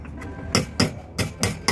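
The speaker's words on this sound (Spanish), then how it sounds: "Aquí en la base de medidor estoy abriendo un agujero para la manguera que va a venir al centro de carga" Hammer blows knocking a hole through an electric meter base for a conduit run: five sharp, evenly spaced strikes, close and loud, with no talking.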